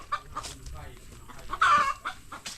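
Chickens cluck in a rural Thai setting, with short irregular calls close by, mixed with background movement and faint voices.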